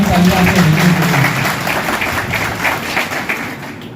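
Audience applause at a farewell-and-welcome ceremony for an outgoing district magistrate, greeting Vishal Singh: a dense, steady wash of many hands clapping that fills the whole stretch and tapers slightly toward the end, with a voice faintly audible at the start.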